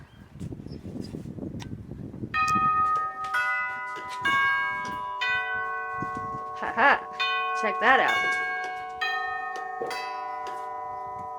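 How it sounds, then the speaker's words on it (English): A chiming doorbell in a Victorian house rings out a melodic sequence of ringing tones, with someone talking and laughing briefly over it, close by. "Yes, that's the doorbell."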